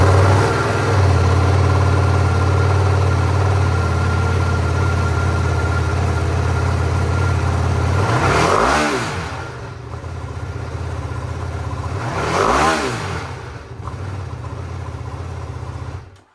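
A 2024 Ducati Panigale V2 Bayliss sport bike idles with a steady, loud, close engine rumble, then gets two sharp throttle blips that rise and fall, no talking over it.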